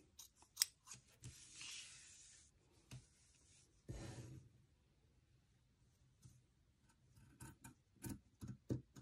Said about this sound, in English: Cut out the detail out of felt.